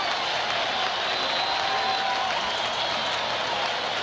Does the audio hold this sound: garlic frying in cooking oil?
no